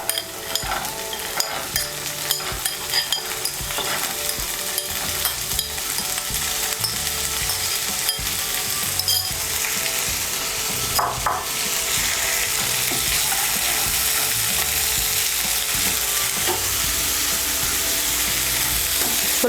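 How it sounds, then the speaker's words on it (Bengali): Soaked, uncooked chickpeas stirred into a hot pan of fried chopped onion, ginger and garlic, with a steady loud sizzle under continuous scraping and stirring throughout. "এখন এর মধ্যে আমি দিয়ে দেব ভেজানো ছোলাগুলো"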